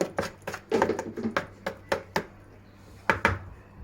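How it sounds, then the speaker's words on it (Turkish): Baking powder stirred with vinegar in a bowl for homemade baklava, heard as rhythmic clinking taps of a spoon against the dish, close and fairly quiet. "Böyle bu şekilde biraz sirkeyle karıştırıyoruz kabartma tozunu"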